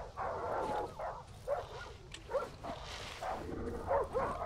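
Dogs bark and yip in short bursts in the Darkwood video game, a run of sharp, mid-distance barks over a low, murky ambience.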